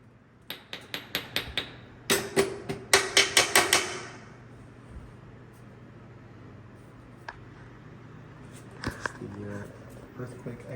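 Sharp metallic hammer blows on seized, rusty disc brake caliper parts of a Prevost bus, a rapid series of close, loud strikes early on, then sparse knocks and clanks.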